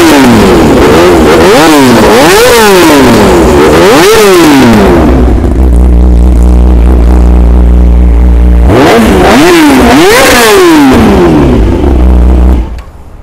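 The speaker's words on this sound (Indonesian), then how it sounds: "Mari kita cuba start tengok Yamaha R6 ni," A 2011 Yamaha YZF R6 four-cylinder sport motorcycle, close and very loud, is blipped through repeated sharp revs that rise and fall, settles into a rumbling idle, then is revved hard again several times before the sound cuts off.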